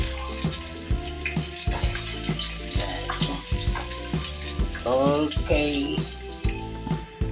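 Garlic and onion sizzle steadily in a pan for seafood pancit. Stirring clatter is mixed in, with one brief spoken word.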